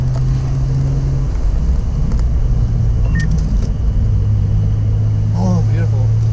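A Nissan Skyline R34 GT-R V-Spec driving on a mountain road near Lake Haruna, with a steady droning engine and road rumble throughout, while someone talks excitedly over it.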